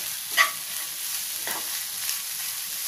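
Fenugreek leaves stirred and fried in a pan for palya, a steady close sizzle with a couple of sharp spatula scrapes cutting through.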